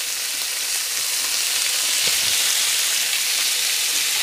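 Beef Bihari kebabs frying in a pan give a loud, continuous close-up sizzle with a faint clink near the middle and no voices.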